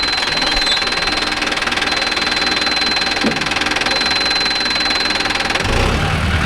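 Engine of a Mahindra Arjun Novo 605 S tractor running steadily nearby with a constant low rumble and knock, rising briefly louder near the end.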